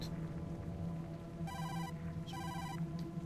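A telephone rings twice in the horror video game Tokyo Dark, each ring a short electronic trill with a pause between, heard clearly over a low, steady game background hum.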